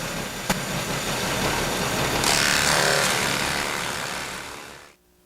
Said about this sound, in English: Now that we've drilled the pilot holes